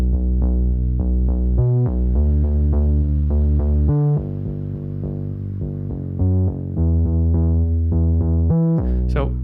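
Trillion bass synth plugin driven by an arpeggiator, pumping out loud, steady rhythmic bass notes in a repeating pattern that shifts pitch every couple of seconds, ending with a brighter swept tail.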